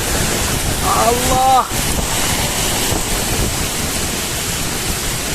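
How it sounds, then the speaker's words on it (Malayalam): Strong wind and heavy rain in a storm at a beach in Kerala, a loud roaring rush of wind buffeting the microphone, with a brief shout of a voice near the start. "ഭയങ്കര കാറ്റും മഴ കേട്ടോ"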